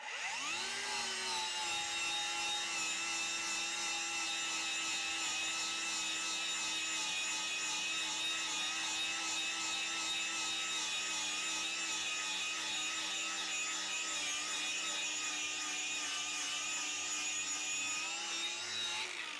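An angle grinder fitted with a strip disc scours rust off metal tubing, a steady, close, high-pitched whine with a rough grinding hiss that holds unbroken throughout.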